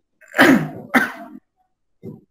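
A person coughs up close, two forceful explosive bursts in quick succession followed by a shorter, softer one after a brief pause, loud against silence.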